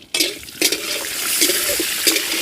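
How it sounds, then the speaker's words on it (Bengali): Bay leaves, cashews and raisins sizzle in hot desi cow ghee in a kadai, a steady close crackling hiss that starts abruptly and keeps going with small bursts. "গরম ঘিয়ের মধ্যে তেজপাতা, কাজু বাদাম, কিশমিশ,"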